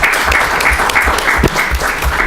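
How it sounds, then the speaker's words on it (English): Steady, dense audience applause for a panel at a blockchain-in-healthcare summit, loud and close, with many hands clapping continuously throughout and no voices on top. "please join me in giving them a hand of applause for time"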